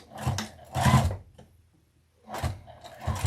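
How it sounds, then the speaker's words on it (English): A sewing machine stitches across a folded apron hem in two short bursts of whirring, rasping motion separated by a brief pause. "I'm just going to fold it over twice. And I'm just going to sew right across there."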